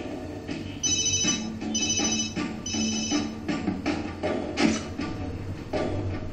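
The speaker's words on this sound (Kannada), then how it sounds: "ಅದೇ ಸಮಯಕ್ಕೆ ಅವಳಿಗೆ ಫೋನ್ ಬಂತು." A phone ringtone plays a repeating melodic pattern for several seconds, moderately loud and close, over a low background hum.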